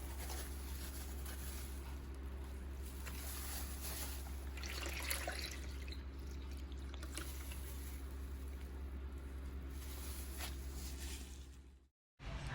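Water runs steadily as dye is rinsed out of platinum-grey hair, producing a constant, faint hiss and splash with a low hum underneath and a brief dropout near the end.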